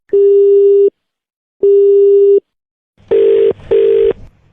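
A telephone busy or disconnect tone on a cut-off call: steady beeps repeating, two long tones with gaps, then two shorter, rougher tones close together, loud and clear with no talking.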